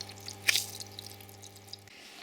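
Water poured to wet cabin sand on a gold cleaner gives a brief close splash and a few soft drips over a steady machine hum, with no one talking.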